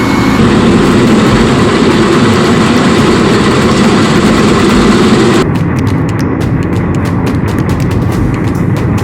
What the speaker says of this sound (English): Let's see this wind reel in action.